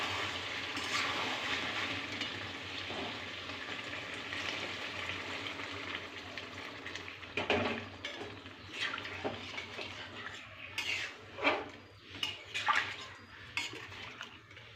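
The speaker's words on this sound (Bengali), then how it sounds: "এবারে জল দিয়ে দেব।" Water poured into chicken curry simmering in a kadai, a steady close pour and sizzle that later gives way to scattered clinks and knocks of the pan.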